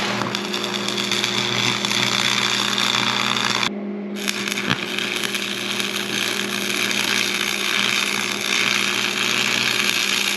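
A beginner welds one side of a joint, giving a steady, loud, crackling electric buzz with a low hum. The arc cuts out briefly partway through, then resumes.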